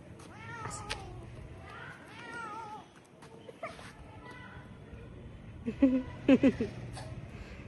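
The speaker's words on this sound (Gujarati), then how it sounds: "હાર્દિક જઈ રહ્યો છે કેટ ભાગી એ ધીમે ધીમે બેટા ભાગી ગઈ કેટ ભાગી ગઈ" A cat meows several times in a home, the cries drawn out and fairly close, mixed with a voice and other talk.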